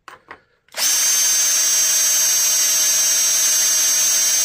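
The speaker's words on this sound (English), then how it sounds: "I'm just starting to drill now. This is a smaller bit." A power drill with a smaller bit starts boring a hole through a crack repair on a mid-1800s replica long-nose rifle stock, a couple of brief taps giving way to a steady, high-pitched whirring drone close up.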